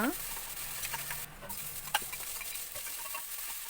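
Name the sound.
tomatoes sautéing in a pan for mutton kurma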